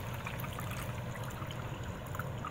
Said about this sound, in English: And this takes about 12 ounces of water. So we shall go ahead and put in approximately 12 ounces.